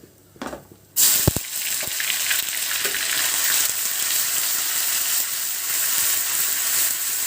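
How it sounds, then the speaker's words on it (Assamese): Loud, steady sizzling of peeled onions frying in hot oil starts abruptly after a short clatter and continues close up without pause. "তেল গৰম হৈ গৈছে। ইয়াতে মই পিচি লোৱা পিঁয়াজখিনি দি দিম।"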